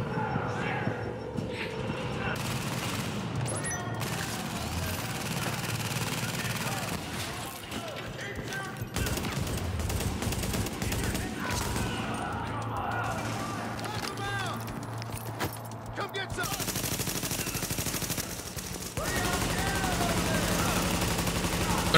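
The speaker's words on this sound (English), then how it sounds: "You're shooting at me!" Automatic gunfire in The Division video game rattles in bursts and volleys across the whole stretch, mixed with game effects, while a voice talks over it.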